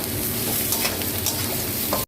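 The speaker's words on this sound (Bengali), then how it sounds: "এবার ঝিঙেটা দিয়ে একটু ভেজে নেব।" Ridge gourd fries in a pan with an even, steady sizzle, broken by a few stirring scrapes and then a brief drop-out right at the end.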